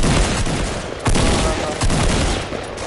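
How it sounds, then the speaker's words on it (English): Rapid gunfire bursts from a squad shooter video game, loud and dense, with several volleys stacking over each other throughout. "Shots fired."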